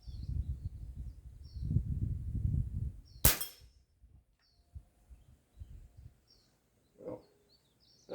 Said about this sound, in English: let's shoot at this little bullseye down range and see what happens